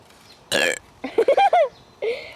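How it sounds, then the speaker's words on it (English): A loud, drawn-out burp with a gurgling, rising-and-falling pitch, preceded by a short breathy vocal sound and followed by a brief voiced noise. "Okay, burp."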